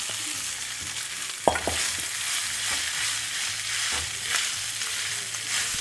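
Green chillies frying in ghee in a pan for ghee rice, with a steady soft sizzle, stirring scrapes and a sharp utensil knock near the start.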